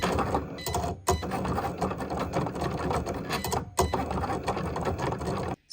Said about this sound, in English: Then I took that piece and I ran it through my Cricut machine.